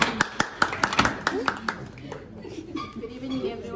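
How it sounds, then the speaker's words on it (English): Scattered hand claps from guests at a 21st birthday party, a quick burst of about a dozen claps that fades out, with chuckling and voices in the room. "Clap for me."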